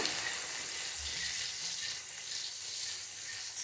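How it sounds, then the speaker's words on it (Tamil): Chopped onions sauté in hot oil for a flat lentil kara kulambu, a close, even sizzle and hiss that runs unbroken for a few seconds, with a faint stir or two and no speech. "வெங்காயம் சேர்த்துட்டு நல்லா வதக்கி விடுங்க"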